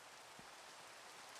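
Steady rain falls in the video game Minecraft, a soft, continuous hiss of drops with no break, faint and even throughout with no voices.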